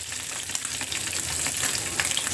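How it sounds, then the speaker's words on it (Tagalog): Steady crackling sizzle of whole tomatoes frying in hot oil, dense and continuous with bright popping spatters, close by and with no voices. "Prito kang kamatis."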